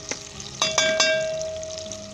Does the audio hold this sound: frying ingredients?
yes